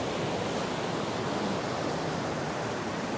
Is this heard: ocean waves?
yes